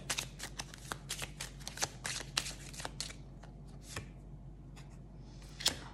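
Oracle cards are shuffled by hand in a quiet room, giving a run of crisp, close riffling bursts and flicks that thin out toward the end with a final snap.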